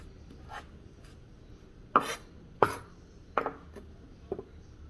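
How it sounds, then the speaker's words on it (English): A knife chops garlic and cilantro on a cutting board for Cuban citrus-marinated chicken cutlets, giving about five sharp, distinct knocks spaced irregularly over a quiet background. "chop up my garlic, and you want to cut up your cilantro"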